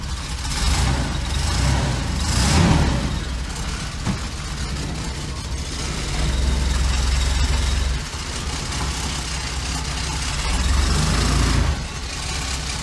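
The engine of a $1500 bagged Chevy van runs steadily close by, a loud, continuous low rumble that swells slightly in places, with no one speaking.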